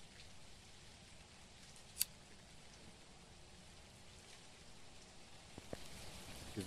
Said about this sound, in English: Is the rain gonna stop it?